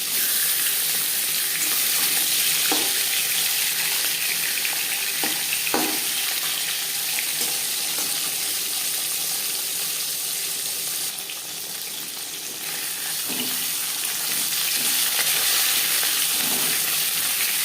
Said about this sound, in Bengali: তিন চামচ রিফাইন্ড অয়েল গরম করে নিয়েছি এবার দিয়ে দেবো মাছের মাথা